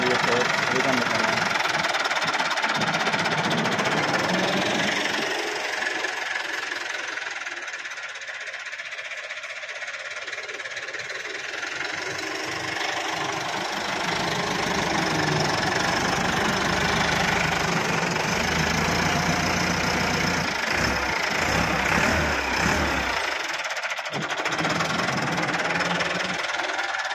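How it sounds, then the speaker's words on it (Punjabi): A tractor engine idling and chugging with a steady mechanical knock, close and continuous for the whole stretch while people talk over it, the engine note dipping briefly and surging back. "ਟਰੈਕਟਰ ਉੱਧਰ ਲੈ ਕੇ ਜਾਂਦੇ ਹਾਂ, ਉੱਧਰ ਜਾ ਕੇ ਭਰਦੇ"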